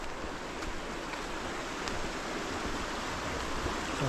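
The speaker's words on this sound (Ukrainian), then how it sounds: "Гарна річка маленька." A small river in a Swedish forest flows with a steady, broad rush of water that holds even and unbroken throughout, close and fairly loud with no voices over it.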